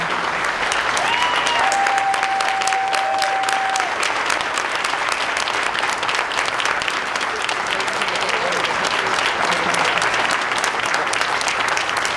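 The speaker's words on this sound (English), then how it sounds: "Please give a round of applause to all of our 2021 Teachers of the Year" Sustained applause from a school district board meeting audience honoring the 2021 Teachers of the Year, a steady dense wash of clapping that holds evenly for the whole stretch.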